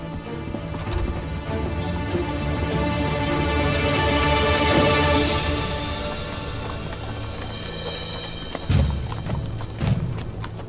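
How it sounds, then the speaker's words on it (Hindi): Horses being ridden out in a historical drama set in the Ottoman era: a rapid, continuous patter of hooves with a blended music score, swelling and fading, and a few heavier thuds near the end. "अल्तुगा, घोड़े तैयार करो, हम अक्ल जा रहे हैं।"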